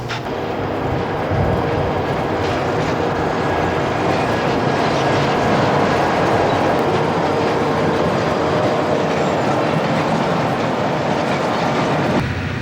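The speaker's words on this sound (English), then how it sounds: "There goes the westbound van train" A long westbound freight train rolls past close by, a loud sustained rumble with rhythmic clickety-clack of wheels over rail joints.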